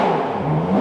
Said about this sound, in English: Couple baby revs, just a couple baby revs.